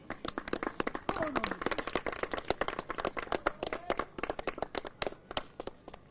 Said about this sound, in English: gets a generous round of applause from the home support